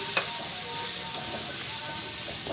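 Raw papaya curry being stirred in a pan after garam masala and coriander go in, a steady broad sizzle with faint scraping strokes throughout, no one talking.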